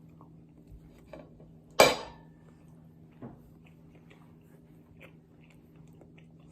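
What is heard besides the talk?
biting into plain rice with cutlery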